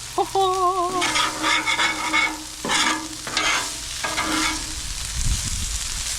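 Bacon sizzles and crackles on a Blackstone griddle while a spatula scrapes and stirs in short, loud strokes over the steady frying hiss, with a brief whistling tone early on and no speech.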